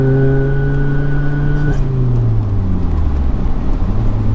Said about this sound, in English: This car just sounds insane though.